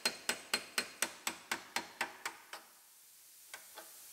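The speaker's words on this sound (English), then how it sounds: "just hammer the scraper through it" Metal scraper hammered through spot welds and structural adhesive on a car body panel, heard as about ten sharp, evenly spaced metallic strikes, fairly close, followed by a pause and two lighter hits.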